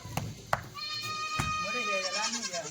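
A couple of sharp knocks, then a Kathiawari goat's long wavering bleat, close and loud, followed by more bleating that rises and falls.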